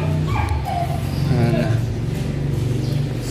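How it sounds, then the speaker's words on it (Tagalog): A dog nearby gives short yips, whines and whimpers over a steady low engine-like rumble, while people talk in the background. "Aso."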